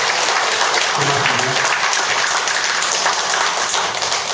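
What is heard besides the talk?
audience applause for the speaker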